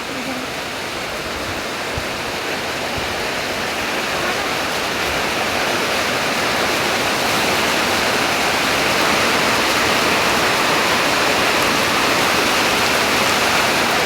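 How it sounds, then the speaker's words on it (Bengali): Heavy village rain hammers a tin roof in a thick, unbroken hiss and patter that grows slightly louder and fuller as the downpour builds. "আমি বলতে বলতেই বৃষ্টি পড়তে ধরছে।"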